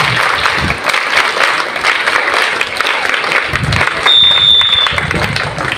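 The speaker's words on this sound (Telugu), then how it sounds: "గట్టిగా చప్పట్లు కొట్టాలి." An audience at a birthday service event claps loudly and continuously in a dense, steady patter, with a brief whistle-like tone cutting through near the end and faint voices underneath.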